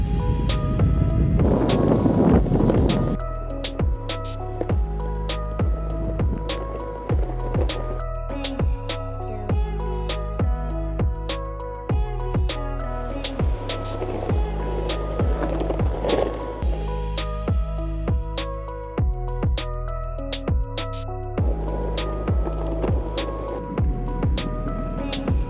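An electric skateboard cruises on 80 millimeter wheels, a rolling rumble with a rising and falling motor whine and repeated rhythmic clacks over pavement joints, continuous and close without speech.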